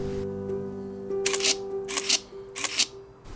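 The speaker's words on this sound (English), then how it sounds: "you press the shutter button, but the shutter curtain doesn't move, but you can hear the shutter sound" A Nikon F4 35mm film camera shutter fires three times in succession, each a sharp crisp mechanical snap close up, over a faint steady hum with no talk.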